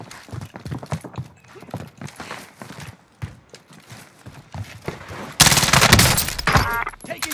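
Video game gunfire in a sniping match, a fast run of sharp cracks and shots with short gaps between them, swelling into a loud, dense burst of fire near the end.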